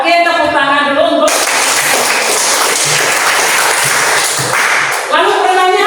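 A group claps hands at a church gathering, a burst of loud sharp clapping that starts suddenly and continues for several seconds, with a voice speaking just before and again as it fades.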